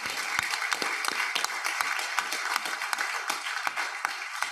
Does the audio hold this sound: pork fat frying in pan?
no